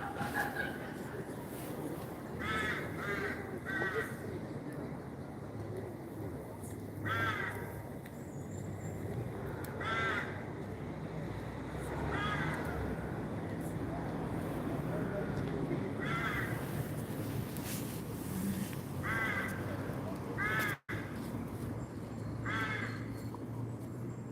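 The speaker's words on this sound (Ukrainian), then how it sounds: "якась там ворона співає пісні" A crow caws repeatedly from some distance in short clustered calls spread across the stretch, heard over outdoor background hum with a person talking.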